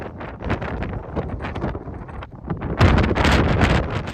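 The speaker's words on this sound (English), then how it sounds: "Here's a video clip where I'm not gonna cut out the sound just to show you guys what the wind was like." Strong gusts of wind batter the microphone on a cold hike, a loud rumbling roar that swells and surges, with no voices.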